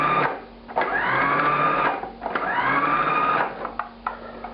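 A food processor pulses yeasted empanada pastry dough in two long motor bursts with a brief pause between them, loud and close, with no talking.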